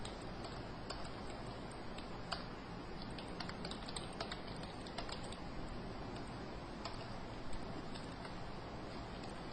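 Fingers type on a computer keyboard while entering names and marks into an MS Excel spreadsheet, giving a steady run of quiet, close, irregular key clicks with no talking.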